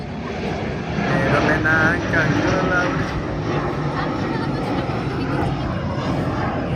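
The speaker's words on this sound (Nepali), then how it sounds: "प्लेन उडिरहेको छ है। कति राम्ररी उडेर हेर्नुहोस् प्लेन। जापान एयरलाइन्स बवाल तरिकाले उड्यो।" A Japan Airlines airplane flying over a park gives a steady, broad engine roar that holds across the whole stretch, with a voice talking over it.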